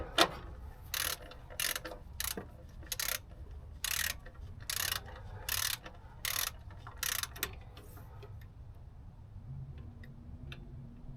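A ratchet tightens the plastic transmission filter, which has a steel sleeve, into the aluminum case of a 2019 Ford F-150 Raptor. Around ten short, evenly spaced ratcheting runs click up close, then trail off into quiet.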